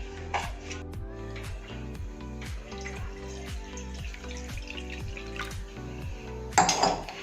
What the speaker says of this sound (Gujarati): એના માટે મેં ગેસ ઉપર એક વાસણ મૂક્યું છે, એમાં આપણે પાણી મૂકી દઈશું